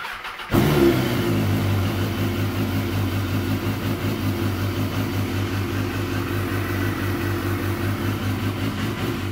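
A BMW S1000 motorcycle running on a lithium battery after four months without a trickle charger: after a brief crank it starts at once and settles into a loud, steady, close idle with a throbbing pulse that holds to the end.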